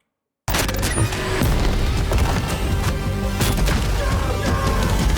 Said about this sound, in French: il y a beaucoup d'explosions